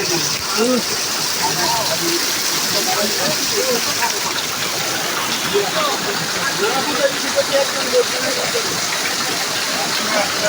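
Rain falls steadily as a dense, even hiss across the whole stretch, with close scattered voices chatting over it.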